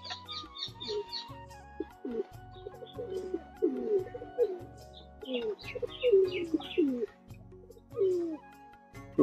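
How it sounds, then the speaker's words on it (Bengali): Giribaz pigeons coo again and again, close by in their loft, in low rolling phrases mixed with higher chirps and a few quiet thuds. "সব পায়রা এই ভেতরে চলে এসছে গাইস, দেখো"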